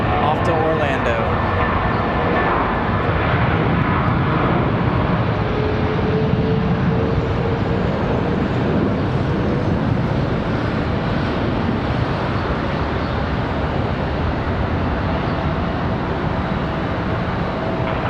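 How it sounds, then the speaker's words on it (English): A Spirit Airlines Airbus A320 or A319 departs Charlotte Douglas for Orlando, its steady, wind-buffeted engine roar running continuously beneath someone talking. "Sounds like we got an A320 or an A319 up for departure now."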